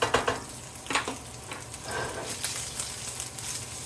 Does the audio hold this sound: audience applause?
no